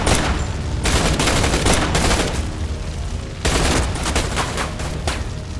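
Heavy bursts of gunfire in a final battle from the Reacher season one finale: loud volleys of many shots in quick succession with brief gaps between bursts, and no voices.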